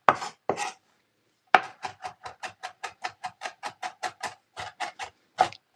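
A knife chops vegetables for a ragu on a cutting board, with two strokes, a short pause, then a quick, even run of about twenty crisp, close taps.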